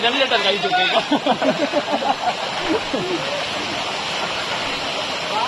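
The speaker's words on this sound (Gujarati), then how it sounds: "જોઈ રહ્યા છો તમે કેવી રીતે નદી પાર કરી રહ્યા છે બધે" River water rushes steadily as pilgrims wade across during the Girnar Lili Parikrama near Junagadh, a constant close wash with rhythmic splashing early on; voices are heard over it.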